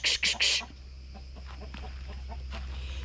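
Hens clucking around a farmyard coop in İzmir: a few loud, sharp bursts open the sound, then softer scattered clucks and rustling follow close by.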